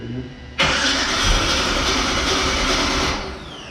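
A 1979 Pontiac Trans Am with a swapped-in LS V8 cranks and fires on its first start attempt, then runs loud and rough for about two and a half seconds before cutting out, with people talking nearby beforehand.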